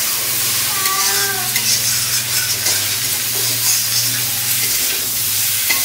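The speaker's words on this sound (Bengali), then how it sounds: "একটু আলতো করে আমি ভেজে নিই, বেশি কড়া ভাজা করব না।" Rohu fish pieces and taro fry gently in an oily pan, a loud, continuous close sizzle broken up by the scrape of stirring.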